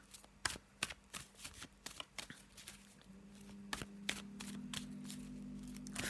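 Black and white oracle cards being shuffled by hand, a quick series of crisp riffling and slapping bursts up close, followed by a steadier low hum underneath.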